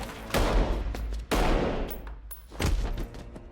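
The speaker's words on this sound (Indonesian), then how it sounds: "Dan dengan mudahnya Nick Fury menembak seniman itu" Gunshots in a Secret Invasion episode scene where Nick Fury shoots an artist: three loud, sharp blasts roughly a second apart, each with a booming low tail over a dense background rumble.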